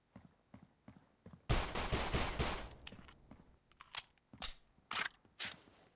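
Gunfire in the mobile shooter Critical Ops: a loud sustained burst of automatic fire followed by several separate sharp shots, close and punchy with brief gaps between them.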